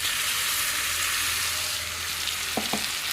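Tomatoes frying in a pan, a steady broadband sizzle throughout with two brief utensil knocks near the end.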